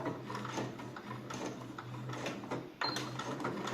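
A home sewing machine runs a 1 cm seam, giving a quiet, rapid mechanical whirring and ticking. The stitching rhythm is steady and close, with a brief louder clack near the end.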